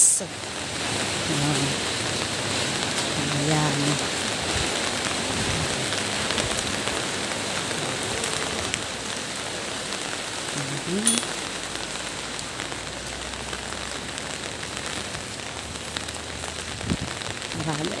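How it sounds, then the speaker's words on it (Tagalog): Steady rain falls outdoors in a residential neighborhood, a continuous broadband patter that stays even and moderately close for the whole stretch, with faint voices and brief incidental noises now and then. "tingnan nyo, maulan na naman dito sa amin"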